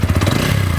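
A loud, close 2020 TVS Apache 200 4V BS6 motorcycle engine idles with a fast, throbbing rumble, steady throughout the brief moment.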